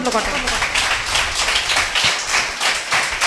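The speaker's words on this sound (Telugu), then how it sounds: "చప్పట్లు కొట్ట." An audience in a church gathering claps hands together, a dense continuous rattle of many hands with a roughly even rhythm, loud and close, with a voice faintly mixed in.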